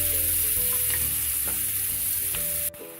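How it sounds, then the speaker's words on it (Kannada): Onions with turmeric frying in oil for a dry Uttar Karnataka palya, a loud, close, continuous sizzle with a few stirring scrapes, cutting off abruptly near the end. "ಈರುಳ್ಳಿಗೆ ಸ್ವಲ್ಪ ಅರಿಶಿನ ಪುಡಿ ಹಾಕಿಬಿಟ್ಟು 2 ರಿಂದ 3 ನಿಮಿಷ ನಾನು ಚೆನ್ನಾಗಿ ಈರುಳ್ಳಿನ ಹುರಿದಿದ್ದೀನಿ"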